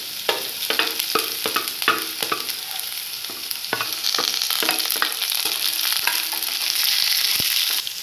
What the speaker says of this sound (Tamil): ஆனியன் நல்லா டிரான்ஸ்பேரண்ட்டாக ஃப்ரை ஆயிடுச்சு